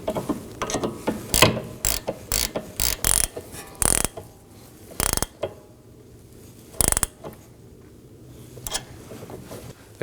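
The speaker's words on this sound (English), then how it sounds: "Use the 7mm to secure the stud while you snug the 15mm down." A ratchet clicks in rapid bursts tightening a 15mm nut on a sway bar link stud of a 2018-2024 Chevrolet Equinox, close and loud, with short pauses between runs of ratcheting.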